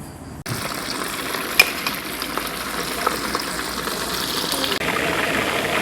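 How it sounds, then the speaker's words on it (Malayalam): Steady crackling sizzle of chicken pieces deep frying in hot oil, continuous and close, with a few brief clicks and knocks. "എല്ലാ ചിക്കനും ഇതുപോലെ തന്നെ നമുക്ക് വറുത്തെടുക്കണം"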